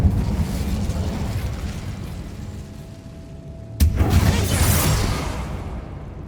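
Incendio fire spell cast in Hogwarts Legacy: a sudden bright burst of flame with a whooshing roar that swells and fades over steady ambient background.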